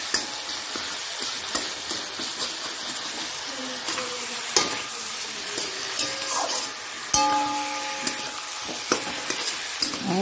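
Tomato and onion fry in a pan for rui fish curry with soybean, a continuous sizzle broken by repeated scrapes and sharp clinks of a spatula stirring against the pan, close and fairly loud.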